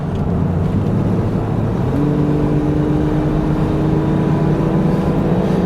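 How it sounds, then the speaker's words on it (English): A V6 Ford Mustang engine drones steadily from inside the car, its pitch stepping once as the automatic gearbox shifts up into third, then holding a constant hum. "Let it shift into third."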